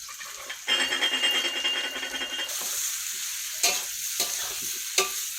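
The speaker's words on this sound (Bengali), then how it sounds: "দিয়ে কষাচ্ছি আলু বেগুনটা মশলা দিয়ে" Potatoes and eggplant frying with spices, green chilli and cumin in a pan: a steady broadband sizzle with a louder burst of stirring and scraping, then a few sharp clinks of a utensil against the pan, no talking.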